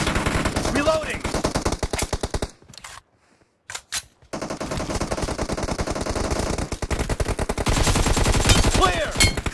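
Automatic gunfire in the mobile battle royale game PUBG Mobile, rapid loud bursts of machine-gun fire with a brief pause midway before firing resumes, dense and continuous.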